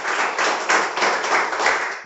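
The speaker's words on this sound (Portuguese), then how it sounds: "Aplauda Ele," A church congregation at a Portuguese-language worship service applauds, a dense, even wash of clapping for about two seconds, close and fairly loud, with no voice over it.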